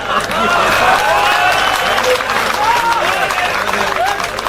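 An audience at a Hindi comic poetry recital in Mandsaur bursts into loud, sustained applause filling the whole stretch, with cheering voices and shouts rising over the dense clatter of clapping.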